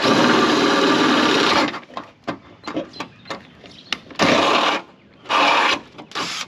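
A drill bores out holes in the aluminum on a 2022 Ford Bronco during a front facelift, with loud, whirring bursts broken by short clattering pauses.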